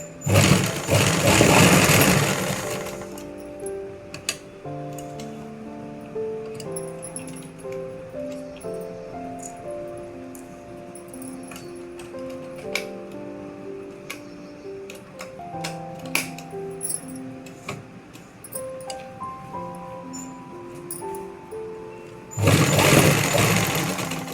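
A sewing machine runs a long, steady stitching pass along the elastic waistband of a trouser, its rapid ticking rattle continuing for most of the stretch, framed by louder rustling of fabric handling at the start and end.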